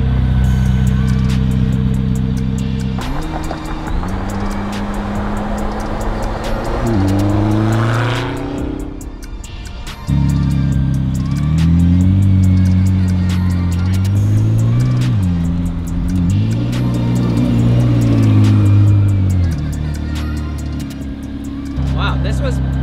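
A car being driven, a loud close engine drone rising and falling in pitch through gear changes and acceleration, dipping briefly before revving up again, with occasional voices underneath.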